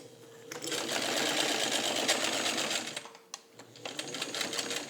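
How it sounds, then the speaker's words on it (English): A serviced Kenmore 117.55 rotary sewing machine stitches garment leather in a fast, steady mechanical whir, close and loud. It slows and pauses briefly near the end, then runs again. "I'm going to do some garment leather for you folks so you can see it sewing on garment leather"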